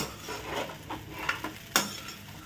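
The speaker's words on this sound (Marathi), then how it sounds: "बघा आता मी त्याला थोडीशी हलवून घेते" A spoon stirs sabudana khichdi around a pan, giving soft scraping swishes with a few sharper clinks against the metal, close and moderately quiet, with no voices.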